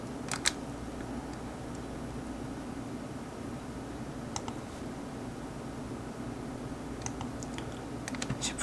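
Sparse, faint clicks of a computer mouse with the Shift key held, in small clusters including a double click, over steady low background hiss with no talking.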